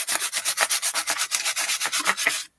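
Coarse, heavy sandpaper scraped rapidly back and forth across a glossy magazine image, about twenty rhythmic loud rasping strokes close up, stopping abruptly at the end.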